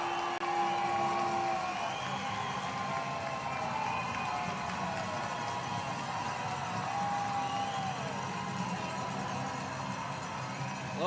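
A hockey crowd at McMorran Place on St. Patrick's Day, on its feet during a fight between benches, gives off a sustained, moderately distant roar of cheering and chatter that fills the arena.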